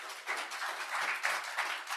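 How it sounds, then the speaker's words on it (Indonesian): A church congregation claps for God after a sermon, with brief, soft, scattered applause sounding somewhat distant. "tepuk tangan kepada Tuhan"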